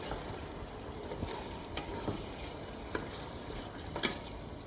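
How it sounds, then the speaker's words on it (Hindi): Meat and bones being stirred in a pot for haleem, a soft, continuous sizzle with a few sharp scraping clinks at intervals, fairly quiet. "मीट के साथ साथ जो बोन्स थी वो भी ऐड कर देंगे। देखिए इसमें डाल देते हैं, तो मिक्स करते हैं हम।"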